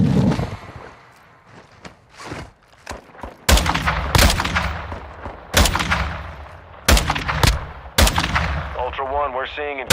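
Bursts of gunfire in Call of Duty DMZ: sharp, loud shots spaced irregularly and sometimes doubled, with quieter scattered shots and movement in between.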